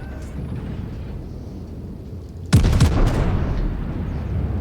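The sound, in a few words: battleship guns firing in World of Warships video game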